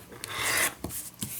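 Paper envelope ends being trimmed, likely with a quilting ruler and cutter, giving a rasping, rubbing scrape that swells over about half a second, then two short sharp strokes follow, close and fairly quiet with no talk.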